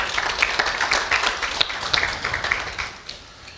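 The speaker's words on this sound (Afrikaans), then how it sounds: "kom ons gee julle lekker hande klap" Church congregation applauding the musicians and team after a sermon, a dense wash of hand clapping throughout that thins and fades toward the end, with no voices over it.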